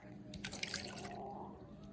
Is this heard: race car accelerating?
no